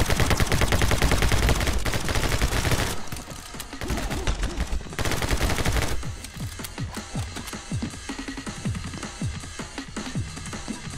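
Loud, dense rapid-fire gunshots and automatic bursts from the video game My Friend Pedro, nearly continuous for eleven seconds with a brief dip partway through.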